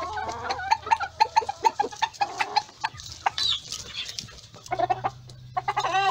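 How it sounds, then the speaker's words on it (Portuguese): Ornamental chickens clucking close by in short bursts, with a rooster among them and a low hum in the background. "Aí com esse belo galo também."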